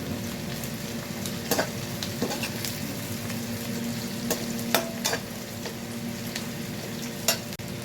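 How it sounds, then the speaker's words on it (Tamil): Onions and green chillies fry in a pan for egg curry, a steady close sizzle broken by scraping stirring strokes at irregular intervals, with no voices. "வெங்காயம் வந்து ஒரு பொன்னிறமாக வதங்கிடுச்சு இந்த நேரத்தில் நம்ம ஆல்ரெடி கட் பண்ணி வச்சுருக்க ரெண்டு க்ரீன் சில்லி ஃப்ளேவருக்காக அதையும் லைட்டாக போட்டு"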